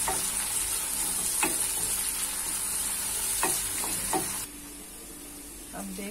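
Cumin, curry leaves and onion sizzle and crackle in hot oil for dhaba-style baingan bharta, with steady frying hiss and periodic scraping stirs; the sizzle drops noticeably quieter toward the end.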